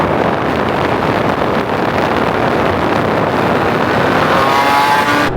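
A loud, steady motorcycle engine roar through a performance exhaust rushes past with heavy wind buffeting while riding, a continuous drone that rises slightly toward the end.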